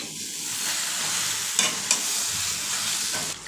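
Vegetables sizzle and fry in a pan with a steady hiss close by, broken by a couple of sharp scraping stirs.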